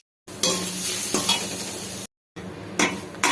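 Grated coconut stirred into a hot tempering of urad dal, green chilli and curry leaves for coconut rice, a loud close sizzle with scraping spoon strokes against the pan, briefly cut off and resuming.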